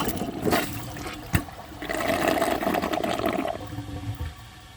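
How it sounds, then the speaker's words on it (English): A 2012 Project Source high-efficiency toilet flushes with a dish towel in the bowl: a sharp clunk of the handle, then a rushing, gurgling swirl of water that fades into a weak trickle. "It didn't even have enough of a flush to push it into the trapway opening."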